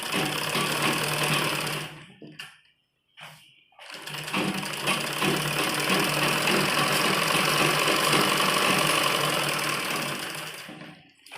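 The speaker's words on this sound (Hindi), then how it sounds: "दूसरी साइड भी हम इस पर सिलाई लगाएंगे।" A sewing machine stitches the side seam of men's underwear in a steady fast whirring run, pauses briefly for a couple of seconds, then resumes a long continuous burst before stopping.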